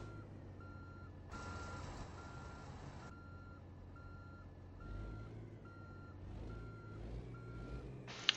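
Truck reversing beeps from American Truck Simulator, a steady series of evenly spaced electronic beeps over a low engine rumble, with a brief burst of air hiss partway through.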